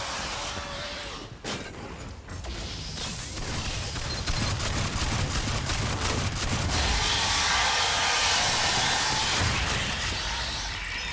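Sentry guns fire steadily from a starboard defense line in the sci-fi shooter Aliens: Fireteam Elite, a loud, sustained mechanical rattle layered over dense game noise, building toward the end.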